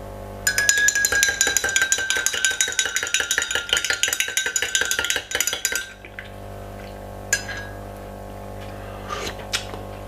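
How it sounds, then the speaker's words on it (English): A metal spoon stirs a drink in a glass, ringing out as rapid, rhythmic clinks for several seconds, close and bright, then stopping, followed by quiet with a few faint taps. "So I just dip my spoon in it"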